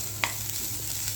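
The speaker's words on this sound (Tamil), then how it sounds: "இதில் இப்படியே வதக்கி விட்டுறோம்." Garlic sautéing in hot oil for an herbal rasam, a steady close sizzle with a single light utensil tap near the start.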